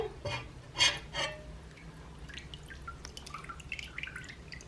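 An aquarium lid is lifted off with a few soft clinks. Water then drips back into the tank in scattered, faint, close drops.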